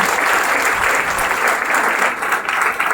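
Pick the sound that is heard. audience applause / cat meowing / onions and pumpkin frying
audience applause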